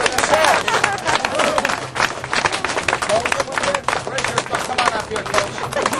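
An audience at a spicy dosa eating contest claps for the chefs, a dense burst of many hands applauding loudly and continuously, with some crowd murmur underneath.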